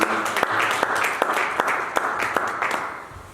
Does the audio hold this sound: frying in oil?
no